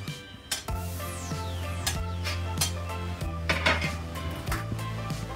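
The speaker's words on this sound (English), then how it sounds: "It's now time to add the carrots." Carrots tipped into a pan of browned mince and softened onions, clattering against the metal with several sharp knocks and scrapes of a utensil, close and fairly loud with no talking.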